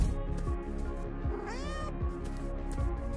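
Candy Cat from the video game Poppy Playtime Chapter 3 lets out a single drawn-out, rising and falling meow over rhythmic mechanical thumping and a low game soundtrack.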